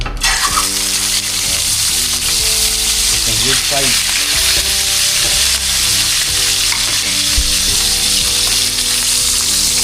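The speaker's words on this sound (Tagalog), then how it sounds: "Prito tayo ng isang malaki at isang good size na tilapia." Tilapia sizzles and crackles steadily in hot oil throughout, a loud, close, continuous frying hiss with a few brief words spoken over it.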